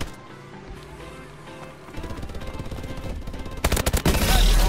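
Automatic gunfire rattles in a first-person shooter video game, a loud rapid-fire burst building into heavy continuous shooting with no voices.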